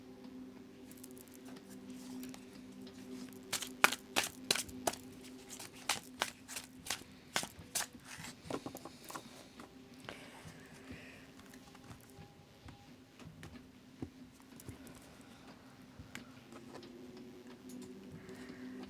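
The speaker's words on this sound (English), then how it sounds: "I'm going to go ahead and give the deck a good shuffle for you" A tarot card deck being shuffled close by, a run of crisp riffling bursts and soft card slaps in the middle stretch, with quieter handling before and after.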